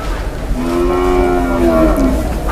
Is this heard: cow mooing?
yes